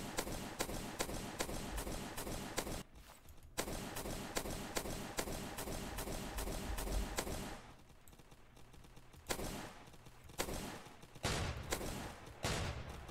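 Rapid video game gunfire in Roblox Zombie Attack: dense, sustained volleys of shots broken by brief pauses, with sparser bursts toward the end.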